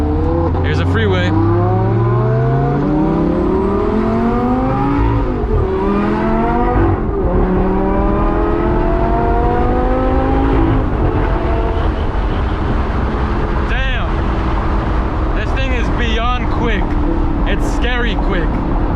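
Supercharged Lamborghini Gallardo Spyder accelerating hard on a freeway, heard from inside the cabin: a loud engine roar climbing through several gears with rising pitch and brief dips at each shift, with a voice talking over it.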